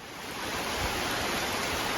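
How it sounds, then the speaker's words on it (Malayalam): Dense, even rush of heavy rain fills the whole moment, loud and continuous with no voices. "അത്യാവശ്യം നല്ല മഴ ചെയ്തുകൊണ്ടിരിക്കുകയാണ്"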